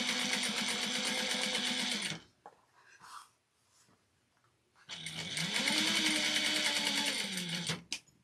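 A sewing machine stitching a fabric stocking runs in two loud, steady bursts of rapid mechanical whirring, separated by a few seconds of quiet handling and faint clicks.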